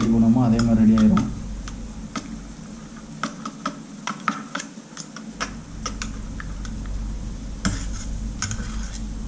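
Eggs are mixed with a little salt for an omelette, a utensil tapping and clicking against the bowl in an irregular stream of light, close ticks while a voice speaks over it.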